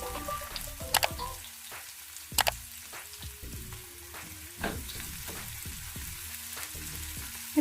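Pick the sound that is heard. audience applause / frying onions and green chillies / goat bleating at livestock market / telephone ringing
frying onions and green chillies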